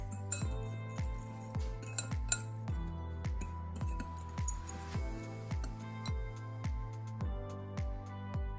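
A fork clinks steadily against a bowl while stirring a seasoning mix with pepper for homemade BBQ wings, about fourteen evenly spaced metallic taps in a regular rhythm, close and clear with no talk.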